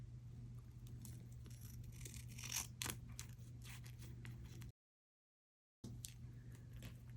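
Scissors trimming 90s nostalgia journal stickers, quiet irregular snips and paper crinkles over a low hum, close, briefly cut to silence partway through.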